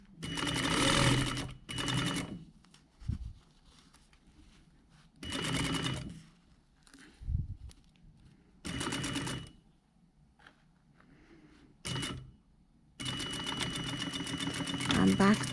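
A sewing machine stitches a jacket body lining, folding the hem and back tacking to secure, running in several short loud bursts separated by pauses, with quiet talk in between.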